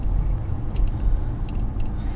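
Low steady engine rumble from inside an old Lexus while driving, a muffled continuous drone with faint higher ticks and swishes scattered through.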